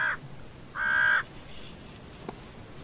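Crows and ravens in a snowy mountain landscape, two harsh, hoarse caws a moment apart, the second longer and louder, followed by quiet outdoor ambience.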